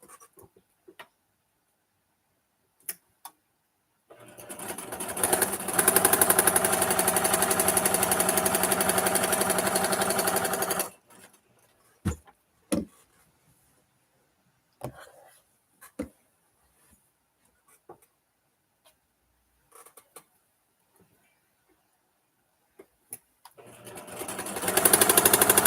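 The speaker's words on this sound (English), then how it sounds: "I think my sewing machine needs some oil. It's starting to sound loud." A sewing machine in need of oil runs loudly for several seconds, a steady buzzing whir, then stops; scattered clicks and taps follow before it starts up again at the end.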